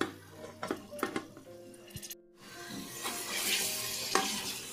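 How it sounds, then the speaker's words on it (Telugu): Mutton pieces being stirred and fried in a pan for mutton curry, clinking spatula strokes, then after a short pause a louder, steady sizzle with a faint voice now and then. "శుభ్రంగా మటన్ ముక్కలు వేసుకోవాలి"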